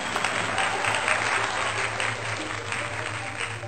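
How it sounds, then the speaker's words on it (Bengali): Crowd clapping at a Bengali New Year celebration, a dense sustained round of applause that holds steady and fairly loud from start to finish. "হাততালি হাততালি হাততালি"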